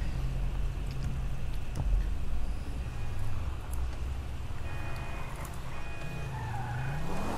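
A car drives through the streets in GTA V Online on PC, with a steady, moderate engine rumble and faint tonal whines running the whole time.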